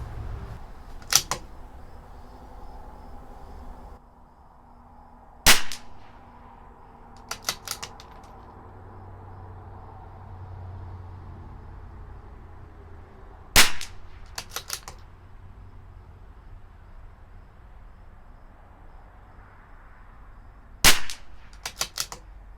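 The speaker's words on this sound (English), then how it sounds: "Let's do our last group. 10-shot group, group number 5." A CZ 457 LRP rimfire rifle firing RWS Club ammunition at a range. Loud, sharp single shots come several seconds apart, each followed by brief clicks of the bolt being cycled over a quiet background.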